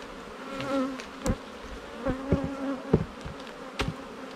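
Honeybees buzzing around a double deep hive in Jamaica, a soft, wavering drone close by, broken by a few light knocks and taps from handling the hive.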